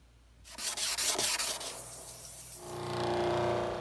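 Abrasive sanding rubs across a scratched plastic car headlight lens in a quick series of close, gritty strokes, followed by a steadier, softer hiss and hum near the end.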